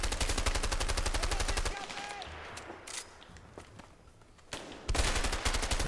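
Loud bursts of automatic gunfire from a firefight in the video game A Way Out, rounds punching through a shed; a sustained burst, a quieter lull with scattered shots, then heavy rapid fire resumes.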